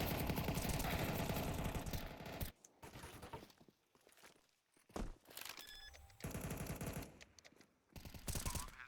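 Rapid bursts of automatic gunfire from a Counter-Strike 2 match, loud and dense in two long volleys with a quieter gap of scattered shots and footsteps between them.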